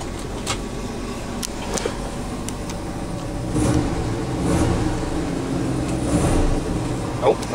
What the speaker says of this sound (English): Got some good throttle response.